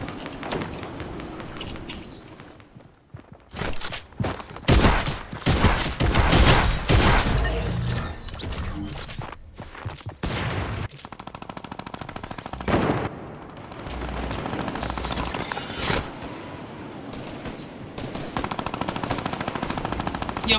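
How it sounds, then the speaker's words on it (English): A purple shotgun fires repeatedly in a video game, with loud bursts of blasts, some in rapid clusters, separated by short gaps and mechanical clicks over game background noise. "Sometimes I have to shoot him 4 or 5 times with a purple shotgun to kill him."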